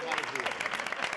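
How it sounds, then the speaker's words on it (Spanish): Brief applause on a Spanish radio show, a short steady burst of canned clapping at moderate level, with no voices. "Pepe, yo creo que María también se merece un aplauso."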